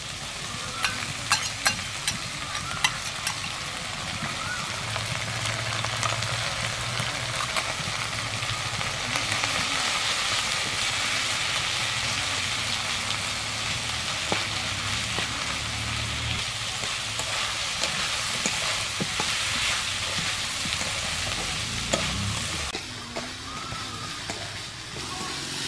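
Spices, grated ginger and cumin paste frying in mustard oil for a pea dal curry, sizzling loudly and steadily up close with scattered stirring clicks throughout.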